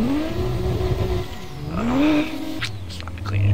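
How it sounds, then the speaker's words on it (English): A car drifting in a Roblox driving game, its engine revving up and down in rising and falling sweeps, fairly close, with faint tire noise near the end. "I want to hit a clean drift."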